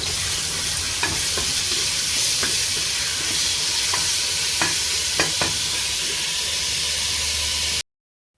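Carrots and tomatoes sizzle steadily as they fry in a pot for chicken-flavored potato soup, with a continuous loud hiss broken by several sharp clicks and scrapes of a spoon stirring against the pot.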